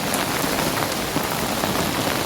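Heavy monsoon rain pours steadily on a rainy day, a loud dense unbroken hiss of drops hitting surfaces close around, with no voices and no break in the downpour.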